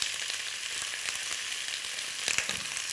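Pieces of meat browning in a pan: a steady, close hiss of sizzling fat with soft crackles and a couple of brief stirring scrapes near the end, no voices.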